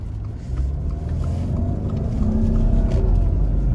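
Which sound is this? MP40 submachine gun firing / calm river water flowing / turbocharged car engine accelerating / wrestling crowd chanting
turbocharged car engine accelerating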